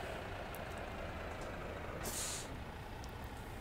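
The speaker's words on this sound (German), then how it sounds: "wir stellen jetzt den LKW mal hier ab." Air brake on a truck in the On the Road Truck Simulator game releases a loud, sharp hiss lasting about half a second while the truck is parked, over a steady engine idle rumble.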